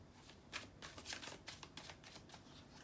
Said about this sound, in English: just give me a second to shuffle.